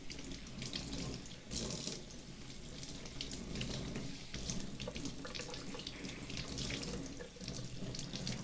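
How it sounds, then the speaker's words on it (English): Tap water runs steadily into a sink while a tie-dyed garment, still releasing grape-purple dye, is rinsed and squeezed under the stream; a continuous close splashing gush with no talk. "So we're just going to rinse this until the water runs mostly clear."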